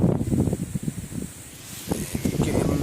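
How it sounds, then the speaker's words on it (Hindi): Strong wind gusts through trees in a village during a storm, a rushing, rustling roar that swells and eases in uneven waves. "तेज हवा है और हमारे गांव में इस वक्त हवा इस तरीके से चल रहा है।"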